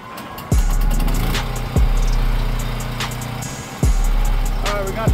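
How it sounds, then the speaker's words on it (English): A welding machine runs at a steady low drone near the trailer repair job, with a few sharp thumps and clanks breaking in over the continuous hum. "Alright, we got the welder on now."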